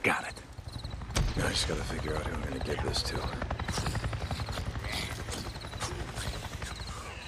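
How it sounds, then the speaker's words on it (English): A helicopter in the video game Days Gone throbs with a rapid, steady rotor chop that holds at a constant level throughout, mixed with in-game speech. "I just saw a goddamn chopper!"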